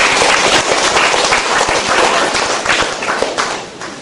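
A church congregation at a Filipino worship service claps loudly and steadily, a dense close wash of hands that runs throughout and eases slightly near the end.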